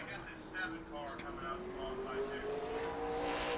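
A super late model race car, number 28, running a qualifying lap at New Smyrna, its engine a steady distant drone rising slowly in pitch, with a commentator talking over it.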